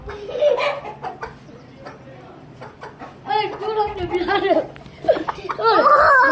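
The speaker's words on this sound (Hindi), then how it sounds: "हमने मुर्गे को पकड़ लिया, लेकिन मुर्गे को दे तो मुर्गे को पकड़ दे, काटता है फिर।" A rooster being caught and held by hand, giving agitated clucks and squawks in bursts amid rustling and handling noise, with people talking close by throughout.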